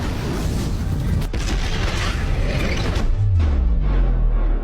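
Bomb blast sound effect: a sustained, loud, noisy roar with a sharp crack partway through, then a deep rumbling boom that fades out.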